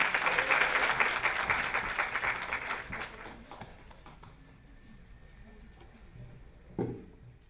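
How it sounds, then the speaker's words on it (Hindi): An audience at a talk claps to welcome a speaker, a burst of dense applause that gradually fades into a few scattered claps, followed by a lone knock near the end. "एक बार तालियों से स्वागत करें"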